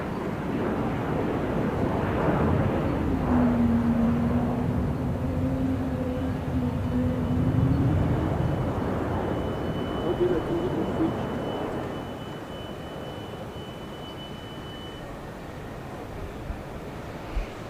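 A Praetor 600 business jet roars steadily nearby as it comes in to land at the 2019 Paris Air Show, a broad rushing engine noise with a rising whine, then gradually fades as it passes.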